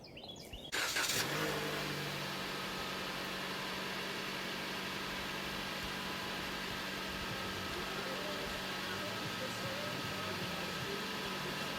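A truck engine catches after a brief rustle and settles into a steady, close, low idling drone that holds unchanged for about eleven seconds.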